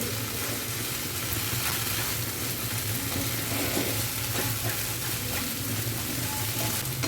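Lote fish curry drying down in a pan as it is stirred from the bottom, giving a continuous dense sizzle and frying hiss with faint scraping of the spoon throughout.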